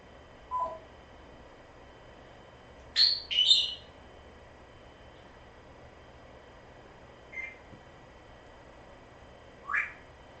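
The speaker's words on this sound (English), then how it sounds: "Baby bird." A baby bird lets out a few brief, high chirps, widely spaced over a quiet background, with a pair of quick calls near the start and single faint peeps later, and no talk.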